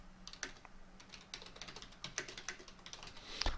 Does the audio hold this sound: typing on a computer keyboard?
yes